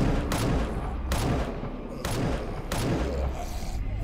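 Gunfire in a Game Guru dungeon crawler video game as zombies are shot, with four loud, close blasts at roughly even intervals over a constant dense rumble of game noise and no speech.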